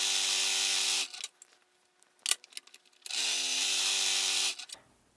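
A sewing machine stitching elastic casings on a fabric face mask: two bursts of rapid, steady mechanical whirring, each lasting over a second, separated by a pause with soft clicks and fabric handling, close and fairly loud.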